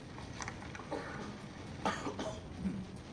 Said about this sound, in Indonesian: Maaf, batuk ini sudah diswab jadi aman.